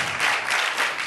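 Brief stretch of lively studio audience applause on a Korean talk show, a dense wash of clapping held at an even level.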